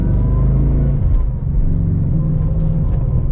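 A Shelby Super Snake's engine roars loudly and steadily as it accelerates, with a deep continuous rumble and a few brief crackling pops from the exhaust.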